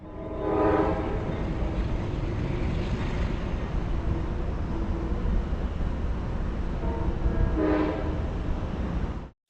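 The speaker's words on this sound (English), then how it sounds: "to blow the horn for the Science Road crossing at the end of Dockyard" A Metro-North commuter train on the Danbury branch near Norwalk sounds its horn for a road level crossing, two loud sustained blasts near the start and end over a continuous rolling rumble of the passing train.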